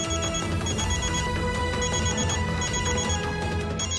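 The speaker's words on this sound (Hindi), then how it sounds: "ये किसके नंबर से फोन आ रहा है हमें?" A telephone rings with an incoming call in a Hindi TV serial scene, a repeating electronic ring that carries steadily over a busy background of music and ambience.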